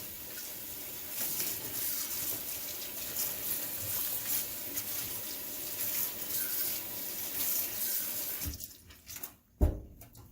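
Water running from a kitchen sink tap, a steady hissing stream that lasts several seconds before it cuts off, ending with a brief clunk.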